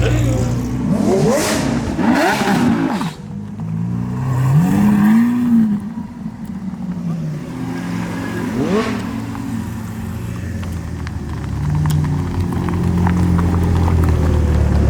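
A loud car engine revs repeatedly, rising and falling in pitch, with voices talking over it at times.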